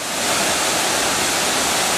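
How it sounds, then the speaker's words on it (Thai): A waterfall roars up close, a dense, steady rush of falling water that fills the whole clip with no voices. "ไปดูน้ำตกใกล้ชิดที่สุด"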